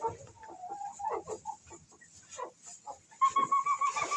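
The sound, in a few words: chickens clucking in coop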